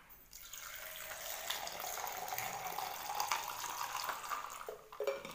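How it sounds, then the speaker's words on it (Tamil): Water pours steadily into a glass with ice cubes for kulukki sarbath, a continuous splashing trickle close by, with a small clink near the end. "தண்ணி சேர்த்துக்கலாம்."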